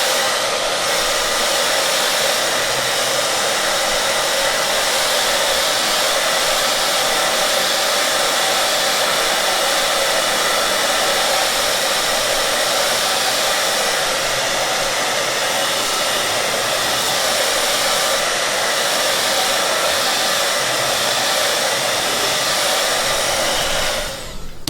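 A hair dryer blows steadily over a watercolour painting of Low Newton in a studio, producing a loud, continuous broadband whoosh that holds unbroken throughout with no voices.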